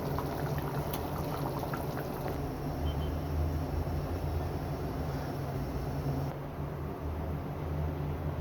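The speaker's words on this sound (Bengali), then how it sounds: "এই তো ঝোলটা অনেকটা ফুটে আসছে।" A pot of chicken curry broth with moong dal boiling steadily: a continuous bubbling, simmering hiss at moderate level that runs unbroken and close by.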